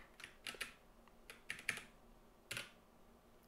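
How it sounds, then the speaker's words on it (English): Quiet typing on a computer keyboard while coding, a few irregular clusters of soft, close key clicks with pauses between them and no voices. "so I'm pressing the wrong keys here"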